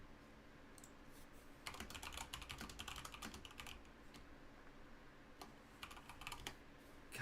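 Rapid clattering keystrokes on a loud computer keyboard come in bursts of fast typing with brief pauses, close and clear with no talking.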